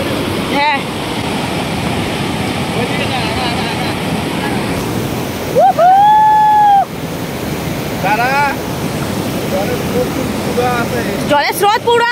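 Rushing river current at the Jaldhaka picnic spot in Jhalong, Dooars, West Bengal: a loud, continuous roar of flowing water with brief voices and a few passing tonal sounds over it.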